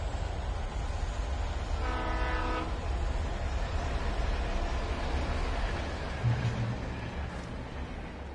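A train horn sounds briefly at a station in the Alan Wake Remastered video game, a loud harmonic blast over a constant heavy rumble of rolling railcars, with a fainter low tone later.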